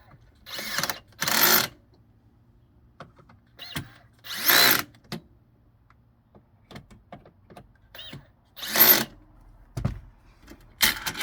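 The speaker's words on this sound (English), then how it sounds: "Then you tighten the screws you can get to in the middle." A power drill drives screws into a counter extension in a series of short, close whirring bursts separated by quiet pauses and small clicks.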